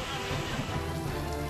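Heavy monsoon rain falls across Bhavnagar in Saurashtra, Gujarat, as a dense, steady roar of rainfall that stays loud and even throughout the short stretch.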